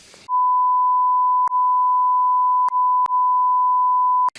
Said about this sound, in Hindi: बीप लगा देना, इशारे समझ जाएं